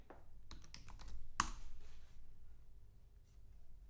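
Keys clatter on a computer keyboard as an address is typed: a quick run of close, light taps, one sharper click, then a few scattered keystrokes, all fairly quiet with no speech.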